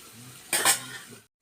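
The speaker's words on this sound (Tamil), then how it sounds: "சேர்த்து ஒரு கிண்டி வாழைத்தண்டு கூட்டு" A spoon stirs banana stem kootu in a cooking pot, one short scraping clatter against the metal over a soft simmering sizzle, then the sound cuts off.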